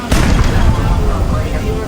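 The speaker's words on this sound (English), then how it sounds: "The gunboats are now shooting back" Heavy gun blasts in a sea battle as gunboats open fire, a loud booming report followed by a rumbling, echoing roar that slowly fades.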